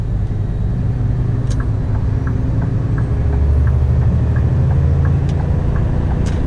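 A Scania G480 truck with a 480-horsepower engine hauls a 50-ton load on a long trailer, a deep, steady diesel drone from inside the cab with faint ticks and brief high squeaks.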